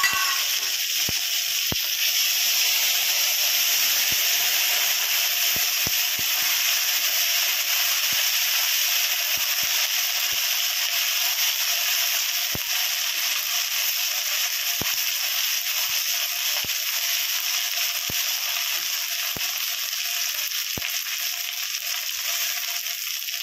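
Spices fry in hot oil with ginger paste and green chili paste, giving a continuous close sizzle and hiss with scattered small pops and crackles throughout.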